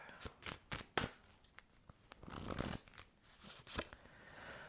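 Tarot cards are shuffled quietly in quick bursts of riffling and flicking, with short pauses between, close by and with no speech.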